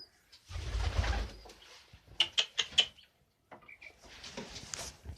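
Pigeons being fed, with soft low cooing, a burst of rustling, and a quick series of sharp pecking taps on a hard surface, close by and quiet.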